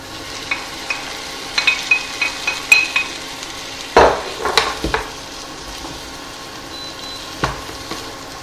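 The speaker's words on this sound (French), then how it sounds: "Je vais ajouter l'ail que je vais faire cuire 30 secondes avant d'ajouter les tomates" Garlic frying in a pot of oil, a close sizzle with a series of sharp clinks and scrapes from stirring, a louder burst midway, no voices.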